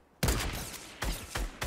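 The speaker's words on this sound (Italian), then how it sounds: "Io parlo del colpo di cecchino." A sniper rifle shot in a shooting video game, a sharp loud report followed by a couple more quick close bursts in under two seconds.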